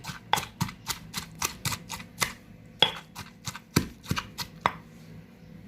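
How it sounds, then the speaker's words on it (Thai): Mango chili paste with plenty of dried chilies being pounded in a mortar, a steady run of sharp, close knocks at an uneven, brisk rhythm with no talking. "ตำให้มันเป็นเนื้อเดียวกันนะให้น้ำมะม่วงมันออก"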